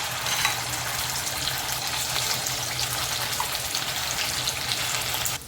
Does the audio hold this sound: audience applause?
no